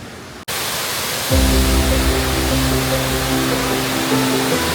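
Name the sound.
waterfall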